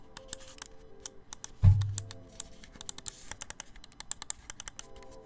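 Side buttons on a Hitscan Hyperlight gaming mouse give crisp, close clicks in an uneven rapid series, with one duller thump partway through and no voices.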